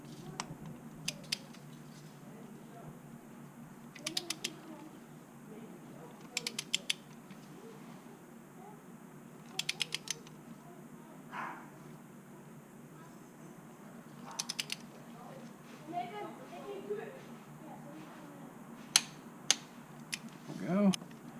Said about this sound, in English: Let's torque this baby down.